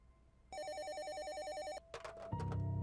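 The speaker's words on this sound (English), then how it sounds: "my phone rang again." A phone rings with a bright warbling electronic trill that lasts just over a second, followed by clicks and the start of another tone, fairly faint in a quiet room.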